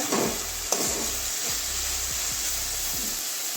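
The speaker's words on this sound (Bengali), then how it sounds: "ভালো করে কষানো হয়ে গেছে দু মিনিট কষিয়ে নিয়েছি" Spice masala sautéing with okra and potato in a pan for chana dal, a steady frying hiss broken by repeated scraping stir strokes and a sharp clink near the start, with no voices.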